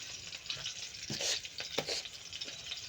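Eggplant fries in a pan with a steady hiss and sizzle, broken by a few sharper crackles and scraping stirs, heard near and with no talking.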